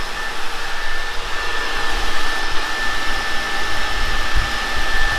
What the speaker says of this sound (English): you can hear the fans kicked in.